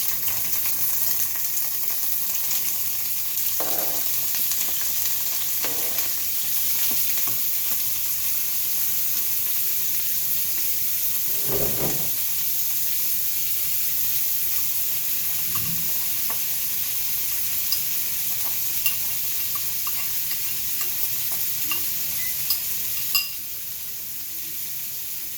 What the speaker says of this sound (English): now I'm just going to put all of my vegetables into the pan